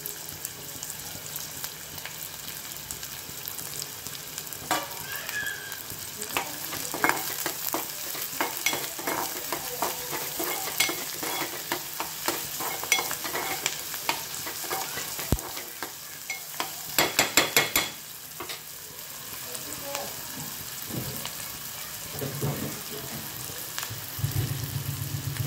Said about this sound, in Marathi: तेलामध्ये आपण जो कांदा घेतलेला आहे कापून तो परतवूया